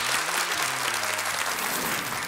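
Studio audience at a television game show applauds, a brisk continuous wash of clapping, while someone talks briefly underneath at the start.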